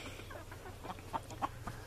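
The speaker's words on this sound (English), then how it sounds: "I got big rooster here, little roosters in the back making some noise." Roosters, one big and several smaller ones, cluck and call in short, separate bursts over a steady low background hum, with no crowing clearly standing out.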